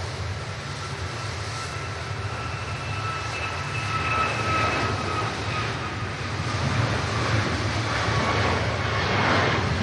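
An Airbus A330 airliner at Manchester Airport, its engines giving a steady distant roar that swells gradually over several seconds, with faint wind noise and no voices.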